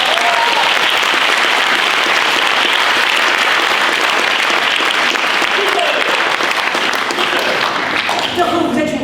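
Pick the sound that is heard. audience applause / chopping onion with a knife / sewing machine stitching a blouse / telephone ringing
audience applause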